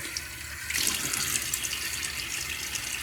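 Tap water runs steadily into a sink while a face is wetted for a shave, a close, continuous rushing splash that swells slightly after the start and carries on alone.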